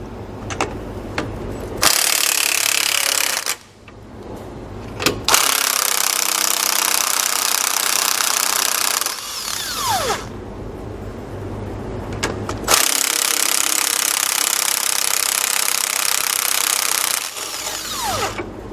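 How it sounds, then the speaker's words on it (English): A power impact tool removes nuts with a 19mm socket from a rear anti-sway bar on a 2018 Mercedes-Benz, loud close bursts of rattling whir lasting several seconds each, separated by short pauses. "The nuts can be removed using a 19mm socket."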